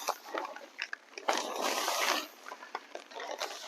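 Potting mix from a previously opened bag is poured into a hanging basket, giving a close, continuous gritty rustling and crumbling with a louder surge in the middle.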